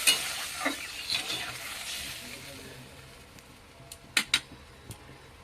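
Potatoes for a rohu fish curry fry in hot oil with a gentle sizzle, and a spatula scrapes and stirs, the stirring clicks growing sharper toward the end.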